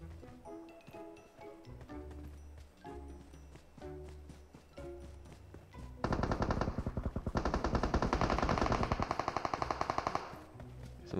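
Machine gun fire in the PUBG Mobile shooter game, scattered bursts at first followed by a dense, loud sustained volley of rapid shots lasting several seconds.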